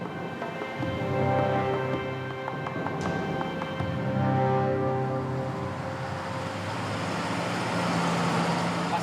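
A 55-ton truck grinds along a dangerous, flood-damaged road in Bolivia, its heavy engine a steady, close rumble with uneven rhythmic knocks and clunks from the rough ground throughout.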